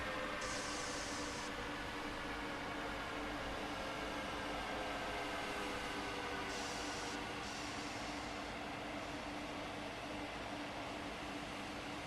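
A train rolls along steadily in the Train Sim World 2 video game, a constant low rumble and hiss of running gear continuing evenly and fairly quietly with no talking.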